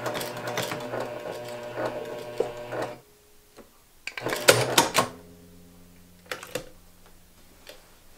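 A sewing machine stitching and backstitching a quilt binding strip, with two bursts of rapid mechanical whirring and a droning motor hum, separated by quiet pauses and brief clicks of handling, near and moderately loud.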